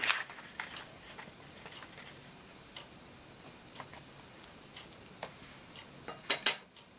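Dough of flour and baking powder for cheese bread stirred in a bowl, a steady quiet scraping with occasional light clinks of the utensil against the bowl, a louder clatter near the end.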